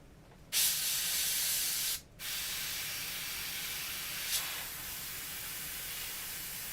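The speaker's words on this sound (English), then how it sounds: "I always like to get a quick look at how the airbrush is running" An airbrush spraying air in a graphics workshop gives a steady, loud hiss close by in two bursts, broken by a brief pause, then a long continuous spray.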